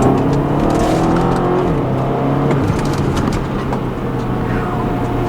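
A 2011 BMW X5 M pulling hard in second gear, its engine note rising steadily in a loud, continuous roar heard from inside the cabin, with the pitch climbing through the run.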